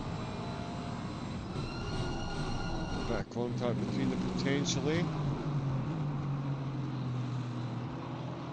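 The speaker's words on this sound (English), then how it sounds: "Do love the sound of the engines bouncing off the fence." Race car engines in the Assetto Corsa Competizione video game echo off the trackside fence at Suzuka during an endurance race, a constant loud roar with engine pitch sweeps, under a commentator's talk.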